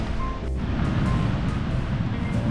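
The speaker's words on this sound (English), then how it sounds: "It's nice to hear the ocean again." Ocean waves of the Tasman Sea rolling onto Carter's Beach on an overcast, drizzly day, a steady broad wash of surf close by, with light wind buffeting the microphone.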